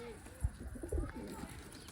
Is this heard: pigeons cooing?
yes